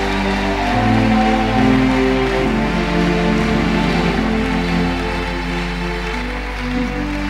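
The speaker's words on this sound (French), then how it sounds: "Par nos acclamations véritables." A church congregation claps together in sustained, dense applause that stays loud and even for several seconds, with no speech over it.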